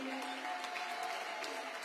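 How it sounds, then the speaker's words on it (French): Applause for a newly graduated bachelier at a laureates' awards ceremony in Petit-Canal, a steady patter of hands from the audience at moderate distance, continuous through the short stretch. "Des applaudissements pour lui."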